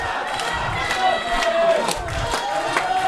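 Wrestling crowd at a DEFEND Indy Wrestling show shouts and cheers for OJMO in loud, rhythmic chanting bursts, with thumps and claps cutting through the sustained roar.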